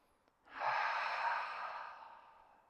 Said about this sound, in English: Just calm it down with some nice deep breaths